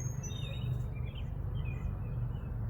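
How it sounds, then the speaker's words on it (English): Several thin chirps and whistled bird calls ring out outdoors at a disc golf park, faint and repeated over a steady low rumble of background noise. "Beautiful bird song."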